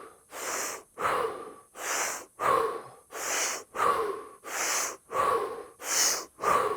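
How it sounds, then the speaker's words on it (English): Rhythmic Wim Hof method breathing: about ten deep, even breath cycles in a steady pulse, close and clear, with no talking. "Listen to my breath. Get into the rhythm. Fully in."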